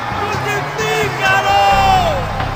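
Crowd of people shouting in unison at a trial before Pilato, a loud sustained mass of raised voices with cheering-like swells throughout.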